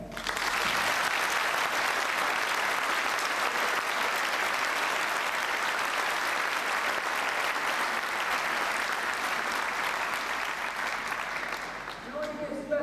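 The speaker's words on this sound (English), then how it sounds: "I would like now for you to give a solid round of applause to the faculty and staff" A school audience gives a sustained round of applause for faculty and staff at an awards recognition event, dense and even clapping that tapers off toward the end.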